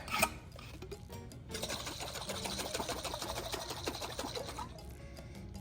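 Rapid, steady rattling and sloshing of water being shaken hard inside a closed jar, close by and continuous for several seconds.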